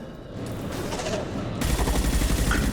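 Gunfire in the video game Mass Effect 2: a steady rumbling wash of combat noise that jumps to louder, denser low-end bursts partway through, with no speech.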